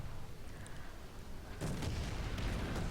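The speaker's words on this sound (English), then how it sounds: "artillery was coming down onto us" Artillery shells land in War Thunder ground-forces battle: a dull rumble, then a heavy broadband impact about midway that leaves a sustained loud roar of explosions.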